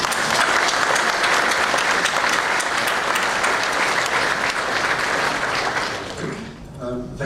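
A large audience at a games industry conference breaks into loud, sustained applause for a speaker, a thick continuous roar of clapping that fades toward the end as a voice begins to speak.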